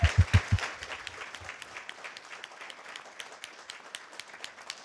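A school debate championship audience claps for the runner-up. A few loud, sharp claps open the applause, which then settles into a steady, moderate round that continues to the end.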